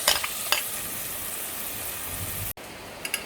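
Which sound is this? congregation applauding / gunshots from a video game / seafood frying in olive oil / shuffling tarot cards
seafood frying in olive oil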